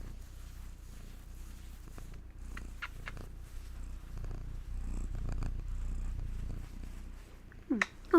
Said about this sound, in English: Oh, so many purrs. So many purrs.